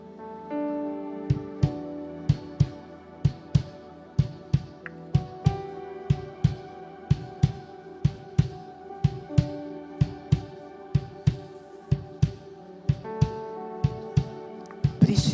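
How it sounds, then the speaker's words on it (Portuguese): At a worship service, a drum kit thumps out a steady heartbeat-like pulse of low, evenly spaced hits over sustained keyboard chords, loud and close throughout. "Será que a bateria consegue colocar para mim como é que é o som dos batimentos cardíacos?"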